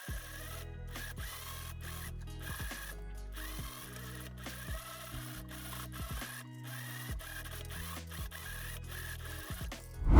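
Sewing machine topstitching the waistline of a corset top, a rapid mechanical stitching chatter that starts and stops in short bursts, close and fairly loud, with no voices.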